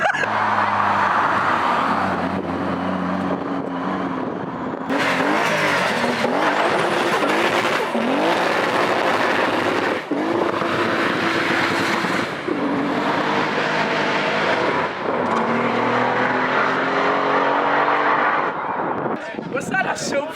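A Toyota Supra accelerates hard at a car meet on a dock, tyres smoking, its loud engine roaring through repeated revving surges, with crowd chatter around it.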